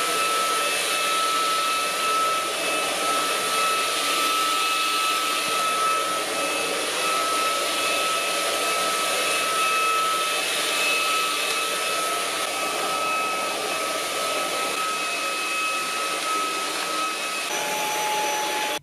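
Proscenic P11 cordless stick vacuum cleaner running with a steady, even whine and rushing airflow that holds constant throughout, with no talking over it.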